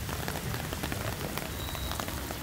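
Heavy monsoon rain pours steadily in Pune, a dense, even hiss of drops striking surfaces close by, with scattered louder splats throughout and no voices.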